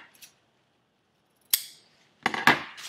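Scissors snipping a fabric corner on a tote bag, a few sharp close cuts in quiet surroundings: a faint snip at the start, a louder one mid-way and a quick double cut at the end.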